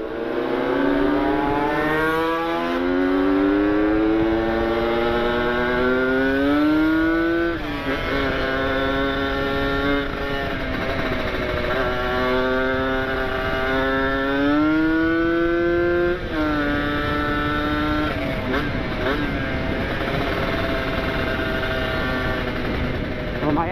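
A Kawasaki Ninja RR two-stroke motorcycle fitted with an ABRT20 exhaust is ridden and revved, its engine note rising and falling through several long pulls, loud and close throughout.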